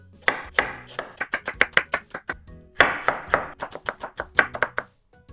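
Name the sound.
knife slicing and dicing ingredient on cutting board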